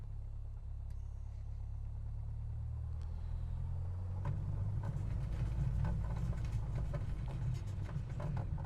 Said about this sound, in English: we have some resistance because, obviously, we're driving through the snow grass.